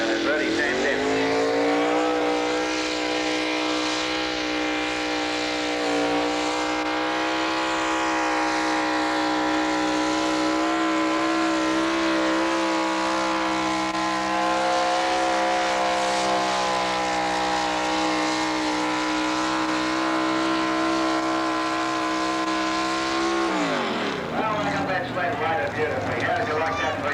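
A hard-working tractor engine at a 1986 tractor pull drones loud and sustained for most of the stretch, its pitch climbing slightly under load before it abruptly drops away near the end, with faint voices in the background.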